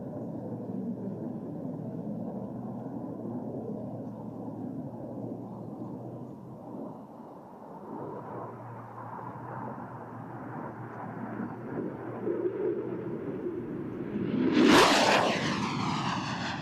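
A jet aircraft flies past at high speed at a naval air station air show, its rumble building into a loud close roaring sweep near the end, with no speech.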